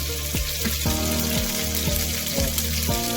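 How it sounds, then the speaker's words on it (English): Loud sizzling and crackling as soy sauce goes into chicken frying in a hot pan for Andong jjimdak, steady and close, with a few bubbling pops and no voices. "It's time to put soy sauce."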